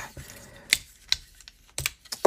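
Plastic Transformers Marine Morphers toy parts are folded and snapped into place, making a few sharp, close clicks and taps spaced unevenly through a short, quiet stretch.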